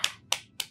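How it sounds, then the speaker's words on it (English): Three slow, distinct hand claps, close and crisp, evenly spaced with short decays between them. "How about a round of applause?"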